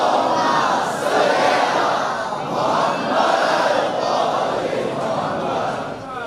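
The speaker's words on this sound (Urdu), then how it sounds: "جتنا بڑا مجمع ہے اتنی بلند صلوات پڑھیں آپ ذرا" A large majlis congregation chants salawat together in loud, rolling unison, many voices swelling and falling in waves that fill the room throughout.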